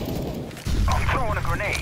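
A grenade explodes in Counter-Strike: Global Offensive with a single heavy, low boom. It rumbles on for over a second while a voice talks over it.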